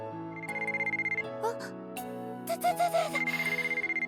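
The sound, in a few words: mobile phone ringing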